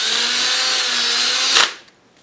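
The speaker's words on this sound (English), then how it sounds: "I'm going to take an 1/8 inch drill bit and expand these holes just a little bit" Power drill with a 1/8 inch bit whines steadily as it enlarges slotted holes in a garage door seal, then cuts off abruptly after about a second and a half, leaving near silence.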